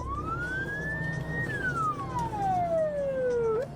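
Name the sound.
police car siren during a chase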